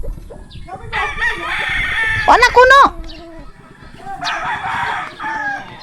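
A rooster crows loudly nearby amid clucking chickens, while a person speaks briefly over the farmyard noise.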